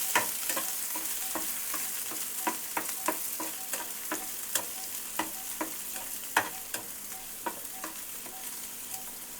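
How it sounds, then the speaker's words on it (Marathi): Cumin, green chillies and onion fry in hot oil in a pan, a steady close sizzle broken by frequent sharp clicks and scrapes of a spoon stirring, with no voices. "त्यानंतर हिरवी मिरची, कांदा आणि हिरवी मिरची चांगले पहिला भाजून घेऊया."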